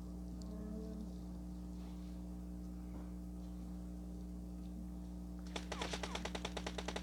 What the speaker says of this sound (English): It's him shooting at me, I already know that.